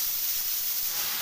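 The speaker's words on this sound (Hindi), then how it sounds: "तो ये देख सकते हैं सब्जी जो है हमारी कितने अच्छे से फ्राई हो रही है" Mixed vegetables frying in a pan for sambar, a steady close sizzling hiss that holds evenly throughout.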